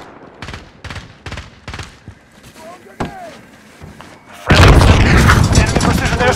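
Call of Duty: Modern Warfare combat: bursts of gunfire and shouted voices are followed by a sudden, very loud airstrike blast that rolls into sustained rumbling explosions over the last two seconds.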